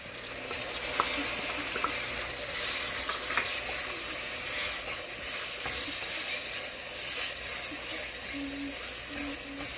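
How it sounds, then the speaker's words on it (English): Tomatoes frying in a pan for a palak chicken dish, a steady continuous sizzle with occasional stirring clinks, moderately close and consistent throughout with no talking. "fry them until tomatoes become soft"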